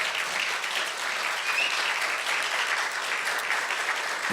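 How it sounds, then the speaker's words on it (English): A crowd claps steadily and evenly, a dense wash of applause that stays loud from start to finish. "Can we please have a round of applause?"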